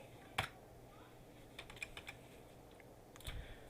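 A few scattered keystrokes tap on a computer keyboard, faint and sparse, with irregular soft clicks against a quiet room background.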